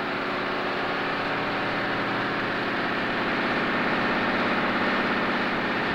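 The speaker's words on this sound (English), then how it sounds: "This is the Cummins KTA 2300, the 12-cylinder engine in the new K series" A Cummins KTA 2300 twelve-cylinder K-series diesel engine runs at a steady pace, giving a continuous, even drone with a low rumble and a smooth hum that holds at a constant level throughout, with no talking.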